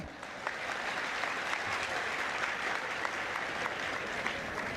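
An audience claps steadily, a dense, even burst of applause sustained throughout at moderate distance.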